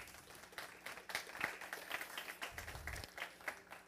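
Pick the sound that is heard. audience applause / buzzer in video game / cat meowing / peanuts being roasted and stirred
audience applause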